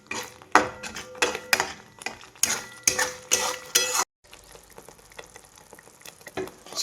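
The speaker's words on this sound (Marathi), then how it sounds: "आता आहे ना हे वाटण मी छान तेल सुटेपर्यंत भाजून घेणार आहे।" A spice paste with green chillies is stirred and fried in oil in a pan, with repeated loud scraping and clanking of a metal spoon against the pan, then a quieter stretch of softer frying and stirring.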